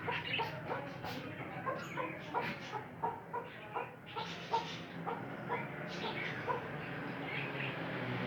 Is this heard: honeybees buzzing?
no